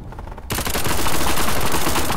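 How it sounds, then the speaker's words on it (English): Heavy video-game gunfire bursts in abruptly after half a second of quiet, then rattles on as a dense, loud, continuous barrage to the end. "I'm taking heavy fire over here"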